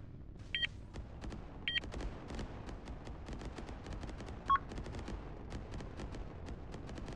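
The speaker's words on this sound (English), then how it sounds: "Incoming enemy fire." Enemy weapons fire in a space combat video game: a few short, sharp synthetic bursts over a steady low rumble, with two quick shots early on and a brighter burst near the middle.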